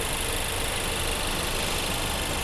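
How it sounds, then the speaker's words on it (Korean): A steady, continuous engine idle of a Renault Samsung SM6 2.0 GDe drones without change for the whole stretch, close and fairly loud, heard from the engine bay, with no voices. "엔진 소리 일정합니다"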